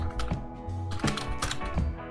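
Keys clatter on a computer keyboard in quick irregular bursts of close, crisp taps, with a short pause midway before the typing resumes.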